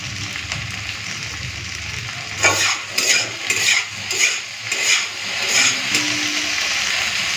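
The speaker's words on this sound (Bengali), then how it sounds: "নুন আর হলুদটা দিয়ে একটুখানি ভাজা করে" Food fries in a pan with salt and turmeric, giving a steady sizzle broken by a run of rhythmic scraping stirs in the middle.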